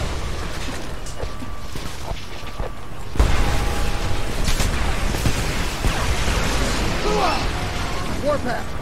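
A T-99 tank blows up under rocket fire in the war game Homefront, a heavy boom bursting in partway through and leaving a loud rumbling, crackling battle din with scattered bangs.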